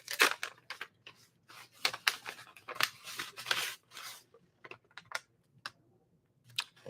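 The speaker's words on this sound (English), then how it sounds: "I guess it's just an envelope. I can go ahead and rip it open." Paper envelope ripped open by hand in a quiet room, a series of short crisp tearing and crinkling bursts at close range with brief pauses between.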